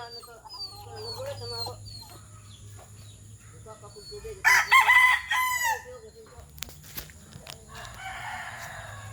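A rooster crows loudly in a burst of repeated calls while hens cluck and chirp softly nearby, with faint voices in the background.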